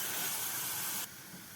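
Onion and tomatoes fry in a pan with a bright sizzling hiss that cuts off abruptly and drops to a quieter sizzle near the end, with no talk.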